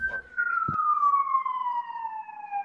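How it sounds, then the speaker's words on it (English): An ambulance siren sweeps past in the street, a loud, steady wailing tone sliding gradually downward as it passes, with a brief thump and faint room noise near the start. "That's the ambulance from Michael who fell off the roof."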